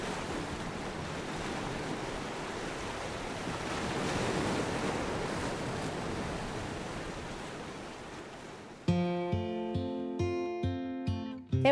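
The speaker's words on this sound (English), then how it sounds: "hear dead silence, except the waves regularly crashing against the rocks" Waves crash regularly against rocks on the Nova Scotia coast, a steady broad surf wash swelling and receding for several seconds before piano music takes over near the end.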